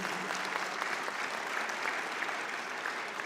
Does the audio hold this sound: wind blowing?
no